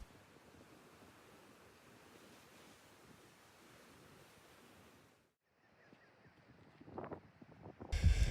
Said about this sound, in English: you just enjoy watching the waves crash on the shore